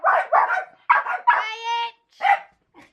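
Several excited dogs bark in quick bursts close by, with a drawn-out high whimpering whine in the middle and a short yip at the end.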